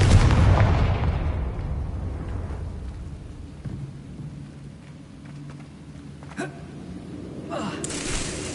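A Confringo blasting spell explodes in the Hogwarts Legacy video game: a loud, booming burst that rolls into a long, fading rumble, followed by a few fainter cracks and thuds later on.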